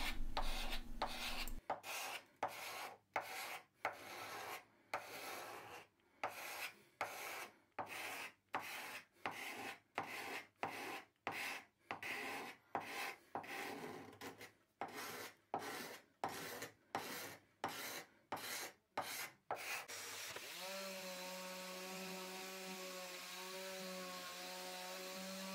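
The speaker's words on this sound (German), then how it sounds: "Für einen angenehmeren Sitz hobele ich jetzt noch eine leichte Wölbung in die Sitzfläche." A hand plane shaves a slight curve into a wooden workshop stool seat: about twenty rhythmic rasping strokes with short pauses between them, close and loud, then a sustained machine hum with a steady tone takes over.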